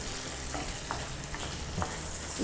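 Onions sizzle and fry in hot oil with cumin seeds, a steady close crackling hiss with a few faint stirring knocks and no talking.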